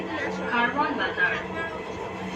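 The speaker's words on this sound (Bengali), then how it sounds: "ট্রেনে পাশ দিয়ে একটা ট্রেন চলে যাচ্ছে" Dhaka Metrorail carriage near Karwan Bazar while another metro train runs alongside, producing a steady rolling rumble and hum as a station announcement is spoken over it.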